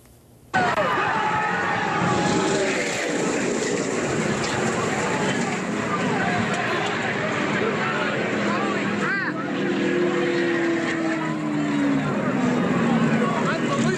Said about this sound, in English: the car as it comes hurtling towards spectators in the stand